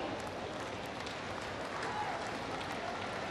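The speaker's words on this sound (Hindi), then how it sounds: "तालियां बजती रहनी चाहिए" A large crowd applauds at a project foundation-stone ceremony in Varanasi, producing a dense, even wash of clapping that continues unbroken, with a voice faintly over it.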